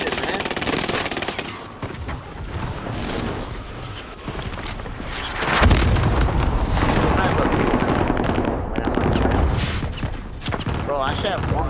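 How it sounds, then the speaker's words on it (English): Sustained gunfire and explosions in a shooter video game: dense rapid automatic fire and heavy blasts fill the whole stretch, loud and continuous, with bursts rising and falling. "Taking heavy fire here!"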